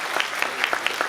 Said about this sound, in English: We clap for everything.